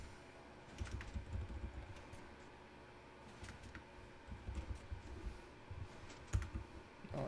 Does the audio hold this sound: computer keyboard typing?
yes